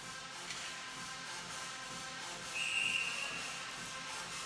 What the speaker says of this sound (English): thought they were going to have a whistle